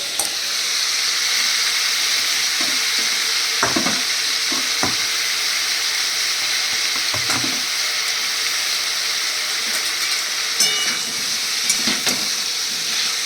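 Papaya, carrot and beans fry in a pan for a chicken stew, giving a loud, continuous sizzle and hiss close up, broken by scattered scraping and stirring knocks, with no one speaking.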